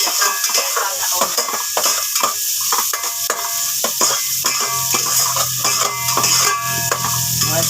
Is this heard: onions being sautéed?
yes